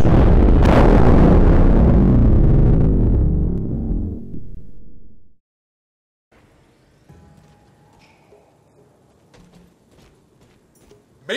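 A bomb blast bursts out with a loud, broad roar right at the start and rumbles on for several seconds before cutting to silence, followed by faint, scattered low noises.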